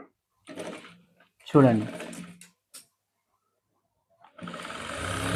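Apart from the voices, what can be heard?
sewing machine stitching coat shoulder seam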